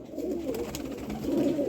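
Rampuri pigeons cooing close by, a steady low, throaty burble that swells slightly toward the end, with a faint background hiss.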